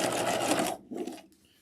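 A sewing machine stitches the boning channel of a structured bodice lining, running in a steady close whir for under a second, then a shorter burst and a fading stop.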